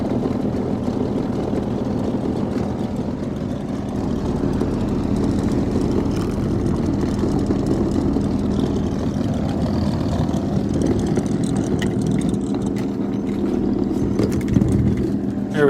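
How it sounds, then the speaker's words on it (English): A 40 Hz test tone through a reconed Savard HO Elite 12-inch subwoofer, a deep, steady low hum droning continuously with a buzzy rumble over it, loud and unbroken throughout. "got a 40 hertz tone going to it."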